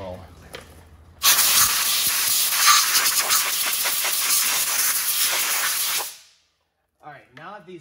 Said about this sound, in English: then we use our compressed air,